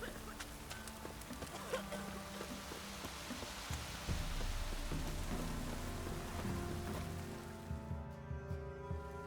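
Steady rain falls in the open world of the video game The Witcher 3: Wild Hunt, a soft continuous patter with faint drips. Distant thuds and other game ambience sit beneath it, and it fades out at the end.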